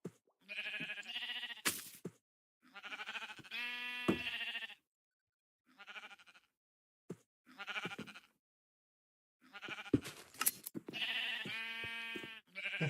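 Sheep in Minecraft bleat repeatedly, loud and close, in uneven bursts separated by short silences, with no talk over them.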